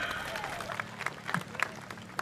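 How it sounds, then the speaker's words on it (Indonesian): Scattered audience clapping at an Indonesian candidate debate on scholarships and entrepreneurship, moderate and steady with sharper claps standing out, mixed with faint talk and room noise. "Ya, tepuk tangan untuk Bang Yuyun."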